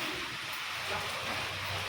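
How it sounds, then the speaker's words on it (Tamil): Continuous rain falls steadily as a dense, even hiss with no pauses, moderately loud and close, with no voices. "விடாமல் மழை பெஞ்சிக்கிட்டே இருக்குது"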